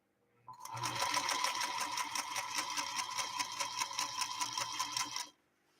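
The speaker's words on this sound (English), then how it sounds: "So here's our first stitch off." A 1952 Singer Princess sewing machine runs a steady stitch line, its fast even clatter close and clear for about five seconds before stopping, with no talking.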